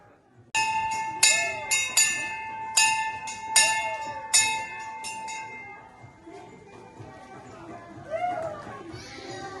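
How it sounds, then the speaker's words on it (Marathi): A hand bell rung at an orphanage to summon residents for snack time, several sharp bright strikes in quick succession, then children's voices and chatter rising as the ringing stops. "तर चला आता आपण बेल वाजवूया"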